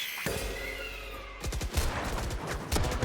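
Rapid bursts of gunfire from a Valorant pro match between Vitality and M8 ring out loud and close, a short volley followed by scattered sharp shots with no talk over them.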